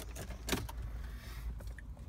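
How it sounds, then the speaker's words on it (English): A pair of keys for a 2010 Citroen Picasso 1.6 petrol jingle close up, a few light metallic clinks, strongest in a quick cluster early on and then scattered and quieter. "Two keys,"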